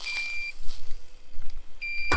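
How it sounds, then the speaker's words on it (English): Electronic beeping from a battery unit at a camp cooking setup beside a mini griddle: a steady high tone sounds early, stops, then returns near the end, followed by a brief clunk. "Let me turn off my beeping battery."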